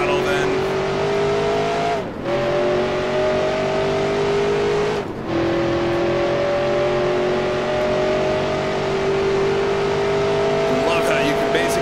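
A 1966 NASCAR Grand National race car in a video game, with a loud steady engine drone climbing in pitch as it accelerates, briefly cut twice for gear shifts, with someone talking over it.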